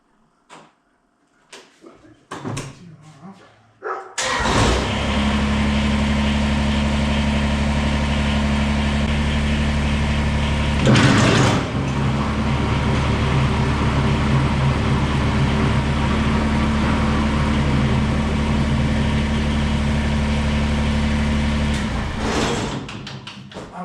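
Someone cranks an engine to test a slip clutch. After a few knocks and handling sounds, the engine starts and runs at a loud, steady idle with a low rumble, surges briefly once, then cuts off.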